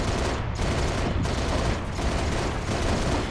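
Loud sustained automatic gunfire in the Halo Reach video game, dense rapid bursts filling the whole stretch with brief gaps, no voices over it.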